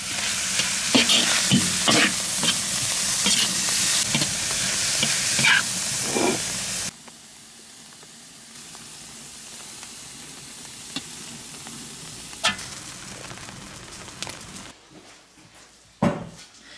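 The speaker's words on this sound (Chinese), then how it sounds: "肉末炒起来，倒入洋葱、青红辣子" Minced meat with onion and green and red chili peppers stir-fried in a wok in a rural home kitchen, a loud sizzling with spatula scrapes that drops to a quieter, steady frying hiss partway through, ending in a sharp clatter.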